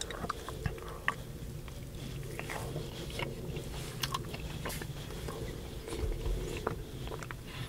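Someone eats keto French toast chaffle near the mic with soft irregular bites and moist chewing. Faint crunchy clicks come through over quiet background noise, with no speech.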